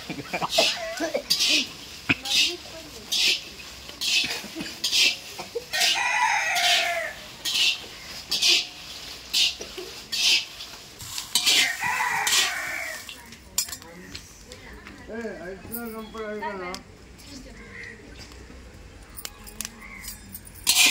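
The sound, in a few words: rooster crowing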